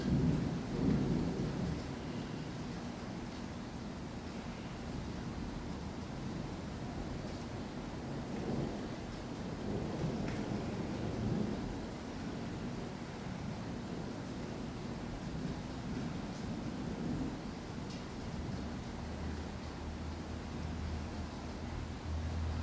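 Thunder rumbles and heavy rain pour steadily through a severe May thunderstorm, forming a continuous low roar with swelling rolls of thunder and no voices.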